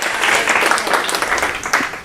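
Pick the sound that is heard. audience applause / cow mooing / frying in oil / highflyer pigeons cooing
audience applause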